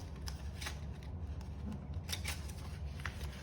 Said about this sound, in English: What you can do is you take it and fold it and you put a little snip.